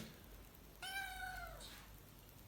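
A single drawn-out cat meow, clear and fairly close, rising then falling, with quiet room background before and after.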